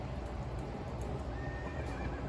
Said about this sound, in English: Oh my god, it's the Phantom Horse.